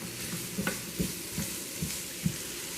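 Thyme sprigs stirred in a sizzling frying pan while cooking fish tacos, a steady frying hiss with several soft scraping strokes of the utensil against the pan at a slow, even rhythm, up close.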